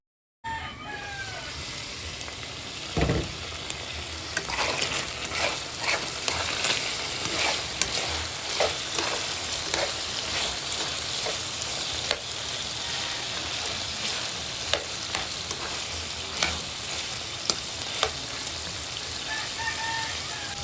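Pork simmers in Sprite in a pan as the liquid cooks down, giving a steady moderate sizzle with scattered crackles and pops throughout, and no one speaking.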